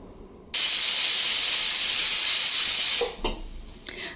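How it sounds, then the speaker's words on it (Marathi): Tempering hitting hot oil in a pan: a sudden loud, close hiss bursts in and holds steadily for a couple of seconds before dying down to a faint crackle with a utensil tap. "मी आत्ता हे लगेचच अशीच फोडणी टाकणार आहे न चेचता"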